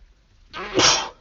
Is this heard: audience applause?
no